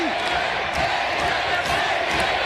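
Wrestling arena crowd during a match, a steady, dense roar of cheering and shouting, loud and sustained throughout.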